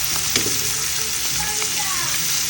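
Pork chops frying in a pan, a steady loud sizzle and crackle filling the whole stretch, with a few sharper pops and faint clinks near the cooking.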